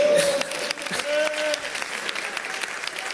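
Part of a comedy show audience breaks into applause, a fairly loud burst of clapping mixed with laughter and crowd noise, with a voice heard briefly in the middle.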